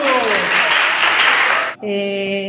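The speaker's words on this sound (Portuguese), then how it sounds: "E palmas pra Lotus" A crowd claps at a celebration marking 21 years of a junior enterprise project. The applause is loud, dense and close, carried under music, then stops abruptly as the music continues alone.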